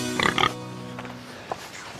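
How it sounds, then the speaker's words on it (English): A couple of close, quick pig grunts and oinks, followed by quieter snuffling and a single faint grunt a moment later. "They're pigs."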